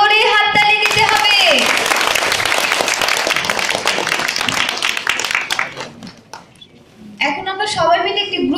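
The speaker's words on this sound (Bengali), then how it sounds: "সবাইকে জোরে হাত তালি দিতে হবে।" An audience at a children's performance and award event applauds loudly in a dense, sustained burst of many hands that fades out, and then a voice speaks over the hall.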